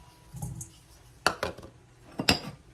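Utensils clinking and scraping against a bowl as peppers and tomatoes are combined for a baked salmon and vegetable dinner, with a soft rustle followed by two sharp clatters, close and moderately loud.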